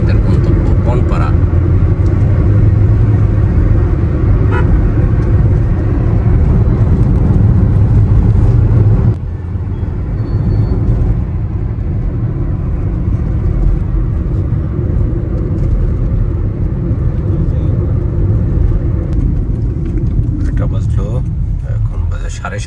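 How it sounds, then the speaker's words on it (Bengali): Steady interior rumble of a car driving along a highway at night, a constant loud road and engine drone with a slight drop in level partway through and people talking over it. "আমরা হাইওয়ে ধরে ছুটে চলছি, সামনে আমাদের গন্তব্য বনপাড়া।"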